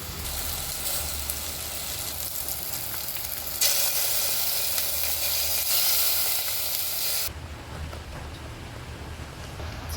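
Asafoetida and mustard seeds fry in hot oil with a loud, dense, continuous sizzle and spatter that swells sharply for a few seconds midway before easing back, close up with no voices.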